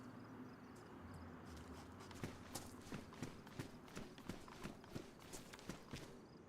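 A DayZ player character's footsteps, a steady run of even crunching steps, close and fairly quiet over a faint ambient background, with no talk.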